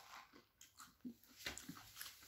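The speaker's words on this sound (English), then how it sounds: "That fish is so crunchy, and then when you bite down into it, crunch, crunch." Fried fish being bitten and chewed up close, with a scatter of short crisp crunches and soft mouth sounds over about two seconds, quiet with faint breathing.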